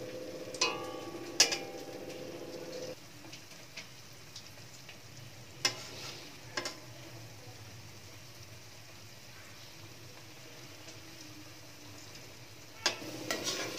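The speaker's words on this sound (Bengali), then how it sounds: "এবার অপর দিকটাও ভেজে নেব।" Vegetable fritters frying in oil in a pan while making a paneer curry, a steady low sizzle running throughout with a few sharp clicks and taps of a utensil, close and moderately quiet with no talking.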